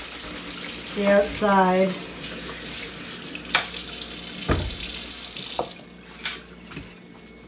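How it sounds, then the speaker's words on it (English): Tap water gushes into a sink as pumpkins are washed, a steady close splashing wash with brief clunks of handling, while a voice speaks briefly over it. "we're going to wash these"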